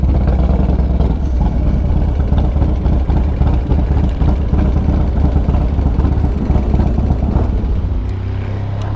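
A Harley motorcycle engine runs loud and close, with a deep continuous rumble, steady throttle pulses and small surges, and no talking over it.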